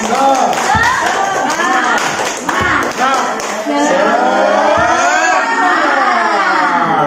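A group claps together in a quick patterned rhythm, sharp and close, followed by voices calling out loudly in unison.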